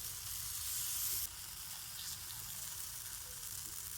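Batter ladled into a hot pan sizzles and hisses softly for a mango breakfast dish, a faint, steady frying sound with a brief louder burst near the start.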